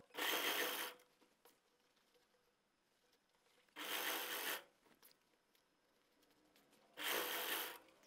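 A sewing machine stitches elastic into a trouser waistband in three short, loud bursts of about a second each. Quiet pauses between them hold faint handling of the fabric.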